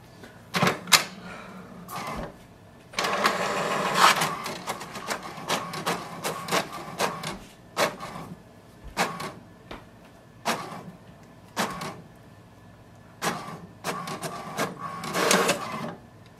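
An HP DeskJet 2755e inkjet printer runs off a Wi-Fi Direct information page. Close, clattering mechanical bursts come in irregular rhythm, with a longer whirring stretch in the middle and repeated short carriage passes.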